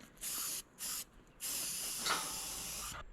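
Black paint sprayed onto truck bed parts for a 1966 GMC, a close, steady hiss in three bursts: two short ones, then one long continuous pass.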